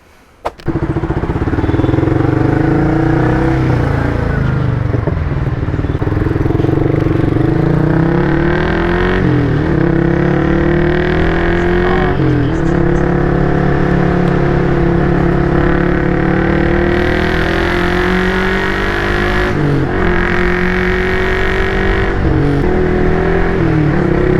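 A Yamaha XSR155 motorcycle engine hums steadily and loudly while riding, rising and falling in pitch through gear shifts, with wind rushing past.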